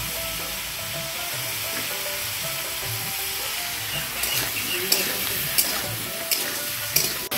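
Ash gourd, fenugreek and nigella seeds sizzle steadily in hot oil with bay leaf in a pan, a constant frying hiss close up, joined later by a few sharp clinks of a stirring spoon, with no talking.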